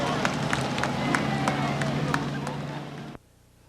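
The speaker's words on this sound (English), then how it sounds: "Nice round of applause for the winner of tonight's Limited Sportsman semi-feature, Andy Gayu in the 115." Crowd cheering and applause for a Limited Sportsman semi-feature winner at Beech Ridge Motor Speedway, a steady loud roar with sharp claps and a low engine hum beneath, cutting off abruptly near the end.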